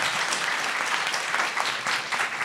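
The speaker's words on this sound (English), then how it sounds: "Let's give them a big round of applause." An audience at a local news panel event gives a steady, dense round of applause, many hands clapping continuously from start to finish.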